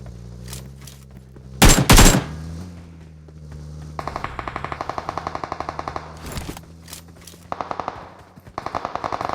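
Gunfire in PUBG Mobile: a loud burst, then rapid automatic rifle bursts in quick rhythmic strings, close and punchy.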